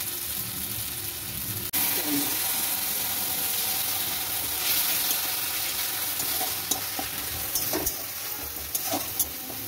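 Water hits a hot frying pan while cooking paneer, setting off a sudden loud sizzle that keeps hissing steadily, with light stirring clinks and scrapes later on.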